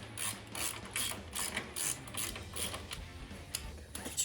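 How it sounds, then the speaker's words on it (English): A 1/2 inch ratchet wrench tightens a bolt during a Harley-Davidson Dyna Super Glide battery replacement, giving rapid repeated clicking bursts in a steady back-and-forth rhythm, close and fairly quiet. "Your 1/2 inch wrench."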